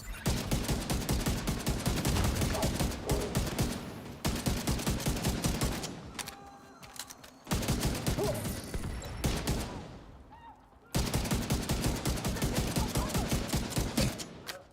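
Heavy automatic gunfire in The Division video game, dense rapid bursts of shots lasting several seconds each, separated by short pauses, loud and close throughout.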